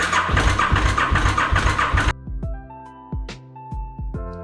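A KTM LC8 motorcycle engine, spark plugs out during valve clearance maintenance, cranks over in a fast, steady run of rhythmic pulses for about two seconds, then stops, leaving a few sharp clanks and ringing mechanical knocks.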